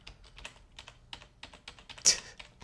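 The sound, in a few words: keys pressed on a computer keyboard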